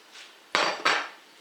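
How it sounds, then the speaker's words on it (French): Dried beans are poured into a pot of soup, giving two quick, bright rattling clatters against metal, close and short in an otherwise quiet kitchen. "J'ai mis les haricots secs."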